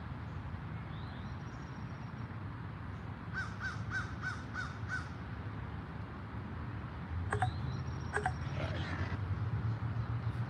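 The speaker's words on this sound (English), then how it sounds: "Bird chirping." Crows caw in a cemetery, a few repeated harsh calls at mid-distance around the middle and again later, over steady outdoor background noise with no talking.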